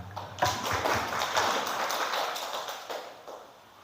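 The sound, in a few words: applause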